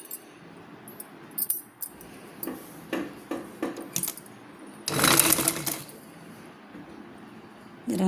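A sewing machine stitches a blouse belt part in short bursts, with clicking and ticking between runs, a longer loud whirring run in the middle and another starting at the end.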